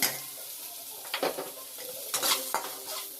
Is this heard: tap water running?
no